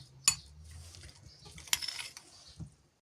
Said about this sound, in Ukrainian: І добре це все перемішуємо, щоб у нас вийшло все однорідне.